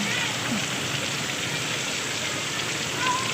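Heavy rain pours down suddenly at a market, making a dense, steady hiss and patter close by that fills the whole stretch without letup.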